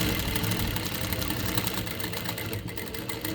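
A sewing machine runs steadily while stitching the rounded katori section of a blouse front, a continuous close mechanical whir and hum with no pauses and no voices.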